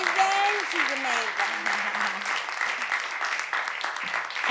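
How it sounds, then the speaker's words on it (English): An audience at an artists' panel event claps continuously, a bright, even wash of many hands, while a voice talks over the opening moments. "If everybody could clap it up for your family."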